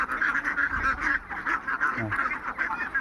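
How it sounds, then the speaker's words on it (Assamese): A flock of Khaki Campbell ducks quacks continuously in overlapping, rhythmic bursts near a pond, close and fairly loud. "এইবিলাক বহুত হাঁহ আছে ইয়াত, আৰু পুখুৰীতো আছে"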